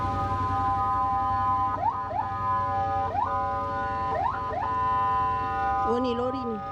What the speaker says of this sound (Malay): Ambulans kat mana tu?